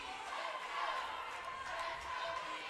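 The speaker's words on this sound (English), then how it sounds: "You hear the crowd." A crowd at a fitness competition cheers and shouts continuously from a distance, a faint wash of voices under a nearby commentator talking.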